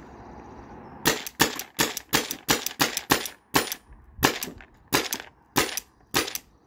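Shots from a Byrna TCR launcher on a weakening air tank: about eleven sharp, close pops in a loose, uneven rhythm, each a brief hiss-backed crack, with quiet gaps between them.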